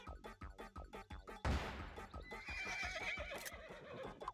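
A horse neighs in the Nintendo Switch game Miitopia, a loud drawn-out whinny following a sudden crash, set against the game's rhythmic background music.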